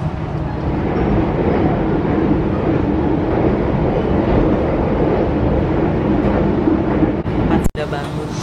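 A panoramic passenger train with full-glass carriages rumbles along the rails out of Bandung, a steady loud roar that holds for several seconds before a brief sharp clatter near the end.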